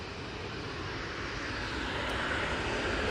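A TUI passenger plane at Manchester Airport makes a loud, steady engine roar that swells slightly as it passes, with no talk over it.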